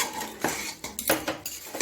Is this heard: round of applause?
no